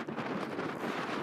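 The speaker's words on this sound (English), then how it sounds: "The wind just won't stop." Strong wind blowing across an open hillside in the Cheviot Hills, a continuous loud roaring buffet against the microphone with no let-up.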